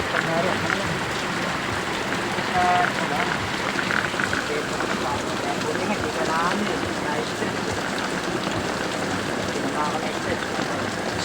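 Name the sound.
rain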